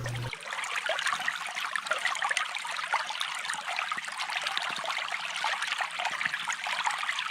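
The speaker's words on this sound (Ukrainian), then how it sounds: "А зараз пропоную послухати, як саме шумить весняний струмочок." A spring brook babbles and gurgles steadily, a continuous rush of running water close by with no other sounds.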